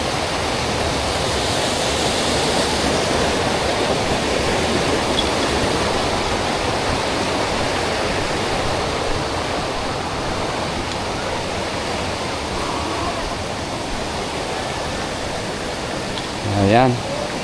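Imugan Falls in Santa Fe, Nueva Vizcaya roars with steady rushing water, a loud, unbroken broadband wash heard up close that drowns everything, with a brief thump near the end.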